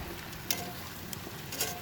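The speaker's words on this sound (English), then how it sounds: "Frying up nicely in olive oil." Quiet, steady frying hiss with faint crackles and a few soft pops as squash and zucchini cook gently in olive oil.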